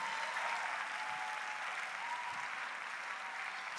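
An audience at a church gathering claps steadily in acclaim of the Holy Spirit, a dense, even wash of applause held throughout, moderately loud and without pauses.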